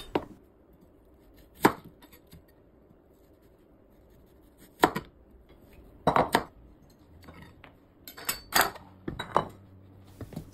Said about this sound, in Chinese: 去皮后的土豆放在清水中清洗干净，然后切成片， 大概3毫米。